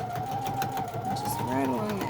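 A sewing machine stitching a cloth mask hums with a steady rapid mechanical whir while a person talks over it.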